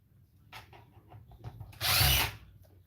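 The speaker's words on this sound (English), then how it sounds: "Pop these screws out of this board." A power driver removes screws from an electronics circuit board: a few scattered clicks and scrapes of handling lead into a short, loud whirring burst of the driver spinning up close, then quiet.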